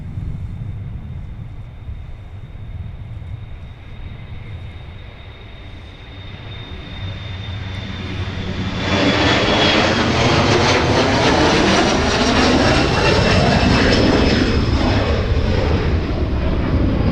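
A jet airliner departs Minneapolis–Saint Paul airport, its engine roar rising from a distant whine into a loud, sustained rumble that sweeps past with a shifting tone, heard alone without talk.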